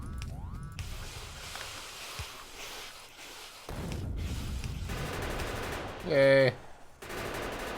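Automated gun turrets in Factorio firing at attacking alien creatures, a sustained rattling burst of rapid game gunfire mixed with other game effects, with someone talking over it.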